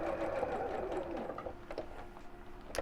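A sewing machine quilts along zigzag seams with lilac thread, giving a steady, fast mechanical whir that runs alone throughout, fairly quiet and close, with a small clack near the end.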